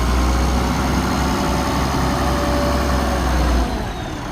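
An International 856 tractor's diesel engine idling close by, a steady low rumble with a throbbing bass tone that holds evenly before dropping slightly near the end.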